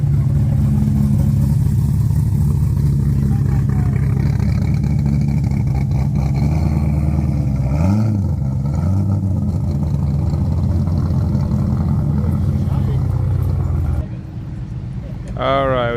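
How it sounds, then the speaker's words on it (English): A Camaro rolls into a Saturday night car meet at an IHOP, its engine rumbling steadily up close before easing off as it pulls in, with a rising whine near the end and people talking. "we got another Camaro coming in"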